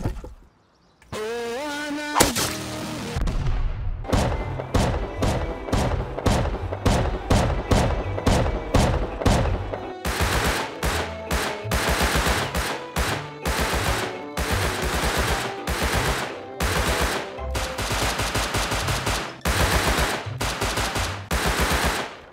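Rapid automatic gunfire from an enemy in the game Rust, loud sustained bursts of sharp, evenly spaced shots rattling on and off for over twenty seconds with short pauses between volleys.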